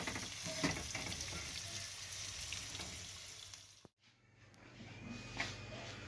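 Salmon fillets pan-fry with a steady, fairly quiet sizzle and crackle that cuts out briefly, then resumes, heard close with no talking.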